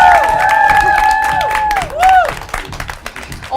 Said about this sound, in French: Veuillez les applaudir encore une fois.